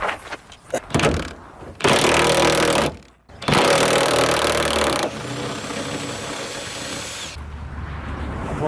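A pneumatic impact wrench works on a Nissan 240SX in a garage, loud bursts of whirring and hammering cut by short pauses, close by, with no talk.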